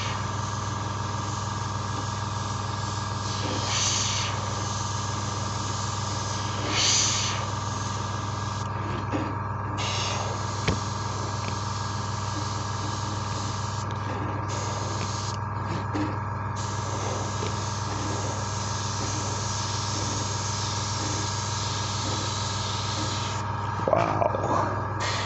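A Harder & Steenbeck Infinity CR Plus airbrush sprays in a steady hiss over a constant compressor hum, with brief bursts and pauses as the trigger is worked.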